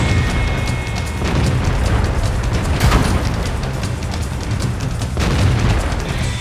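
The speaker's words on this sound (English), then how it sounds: "firing on the move and using APCR shells to punch through armor." Booming tank cannon fire from an E50 shooting APCR shells in the World of Tanks video game, with repeated heavy blasts and crackling bursts over a dense, continuous battle rumble.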